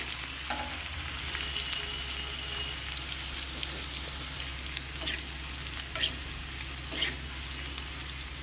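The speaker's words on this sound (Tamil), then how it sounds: "பூண்டு ஒரு அஞ்சு பல் அதை இதில் சேர்த்துடலாம் இந்த பூண்டு வந்து செவக்க விட்டுடலாம்" Five garlic cloves frying in a pan with a steady oil sizzle, with a few soft stirring scrapes and clinks that stay close and fairly quiet throughout.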